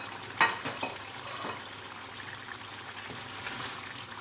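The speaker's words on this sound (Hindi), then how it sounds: "अब ये देखिए हमारा कौरमा अभी भून रहा है" Spices, yogurt and tomatoes cooking with fried chicken for a biryani korma, a low steady sizzle with a few soft spoon knocks near the start, close and fairly quiet.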